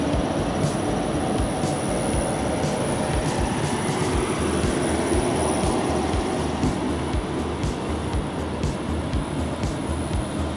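A regional RB 25 train passes through without stopping, a loud, steady rumble of wheels and wagons rolling by close for the whole stretch, with faint squealing from the rails above the roar.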